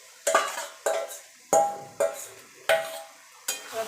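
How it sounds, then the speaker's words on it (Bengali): Marinated mutton stirred into fried spice paste in a pot, the spoon scraping and clanking against the metal in six distinct strokes spaced about half a second apart, each with a brief sizzle, close and moderately loud. "এবার আমি যে মাংসটা মেখে রেখেছিলাম সেটা দিয়ে দেবো।"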